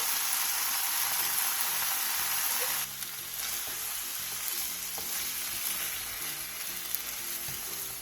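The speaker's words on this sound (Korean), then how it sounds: "삶은 파스타 면과 크림 소스를 넣고 골고루 섞어가며 볶아주세요" Boiled pasta with cream sauce and mugwort being stir-fried in a pan, giving a loud, continuous sizzle that drops slightly partway through, with soft spatula stirring underneath.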